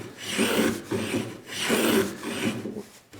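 A chisel blade set in a block of wood shaves a workpiece in repeated rasping strokes, each stroke a close, steady scraping push with short pauses between, no voices.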